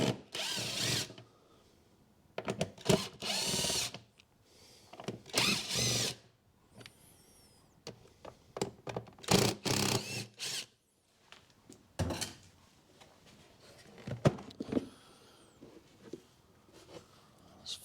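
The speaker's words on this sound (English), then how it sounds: "It looks like we've got 1, 2, 3, 4, 5 Phillips screws. So I'll just undo those." Cordless screwdriver or drill undoing five Phillips screws on the air filter housing of a 2005 Skoda Fabia 1.2 petrol, heard as repeated short whirring bursts close by, separated by pauses and light clicks and knocks of plastic.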